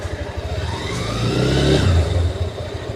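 A Honda NX motorcycle with traction control accelerates hard in first gear, its engine note climbing steadily as the revs rise and then easing off, loud and close with no speech.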